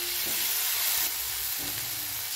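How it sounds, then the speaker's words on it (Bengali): Boiled fenugreek greens frying with potato and brinjal in a pan give a soft, continuous sizzle, with a few brief stirring scrapes and no talk. "এবার এটিকে ভালোভাবে ভেজে নেব।"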